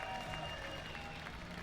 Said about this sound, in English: Who is cheering for the Viper?